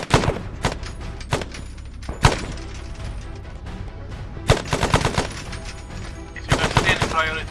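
Gunfire in a military shooter game: scattered single shots and short automatic bursts, some close and loud, with a longer rattling burst near the end over faint background noise.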